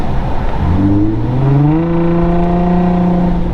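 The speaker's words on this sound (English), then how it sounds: "This vibrant resonator, man, it sounds so good." An Infiniti G35 engine revs up with a deep, resonant exhaust drone through a Vibrant resonator with muffler delete, pitch rising smoothly then holding steady, close and loud.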